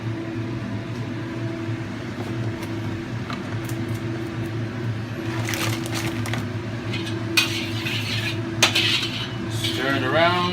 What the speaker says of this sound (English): Stir it around, you coat the wok.